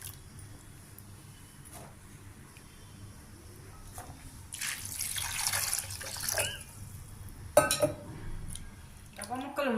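Water is poured into a pot holding small cut pieces of banana stem, making a splashing gush of a couple of seconds after quiet handling sounds, then some clinks.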